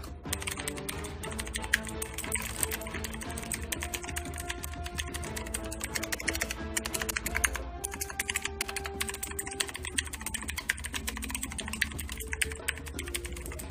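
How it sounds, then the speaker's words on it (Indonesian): Rapid, steady clicky typing on a Sades Excalibur mechanical keyboard with blue switches, crisp and close, continuing without pause. "sound test alias cek soundnya dari mechanical keyboard Hades Excalibur ini menggunakan blue switch"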